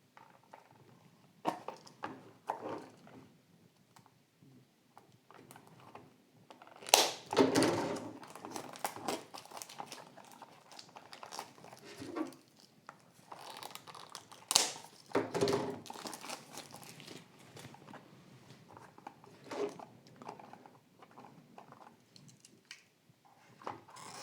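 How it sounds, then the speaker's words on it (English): A knife slicing open the cardboard packaging of a Mini GT model car, heard as close, intermittent crinkling, scraping and tearing bursts in an otherwise quiet room. "So let's get the knife and cut it open."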